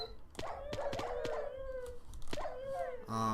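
Dogs howling in the video game Crash Landing, several drawn-out wavering howls overlapping with sharp yelps, fairly close and loud over a low game background.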